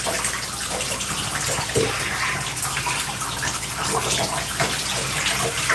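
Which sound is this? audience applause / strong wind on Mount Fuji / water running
water running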